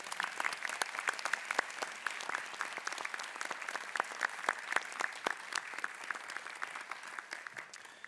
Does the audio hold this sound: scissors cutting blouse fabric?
no